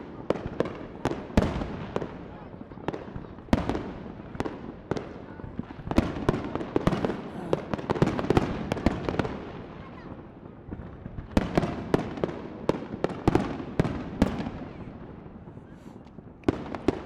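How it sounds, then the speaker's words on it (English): Fireworks burst over city buildings, some distant and coming off taller rooftops, in a dense string of sharp cracks and booms with a rolling rumble between them, steady and loud throughout. "I'm going to zoom in on some of the more distant fireworks coming off the taller buildings"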